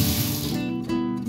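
Water gushes steadily from a newly installed mixer tap fed by tank and mains supply, a loud, close, continuous rushing splash with no talk.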